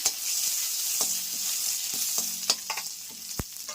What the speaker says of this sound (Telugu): ఆవాలు జీలకర్ర కాస్త తిరిపెట్టమన్నాక ఇప్పుడు కరేపాకు వేసేసుకుందాము